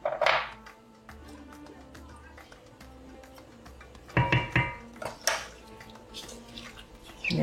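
A utensil gently stirs spices in a cooking pot for an angel hair pasta sauce with chicken: soft scraping punctuated by a few close, sharp clinks against the pot, with no talk.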